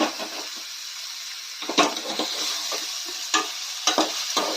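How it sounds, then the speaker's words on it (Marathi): Chicken sautés in a pot for a village-style meal, with a steady sizzle broken by scraping stirs and clattering turns of the pieces close by, no voices. "तर असं परतले जात आहे इथं चिकन."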